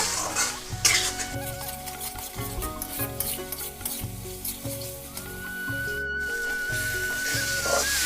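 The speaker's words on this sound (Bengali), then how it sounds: "মশলাটা এখানে খুব ভালো করে আমি কষে নেব" Spice paste frying and being stirred in a pan over low to medium flame, a steady loud sizzle with rhythmic scraping strokes and faint music underneath, no voices.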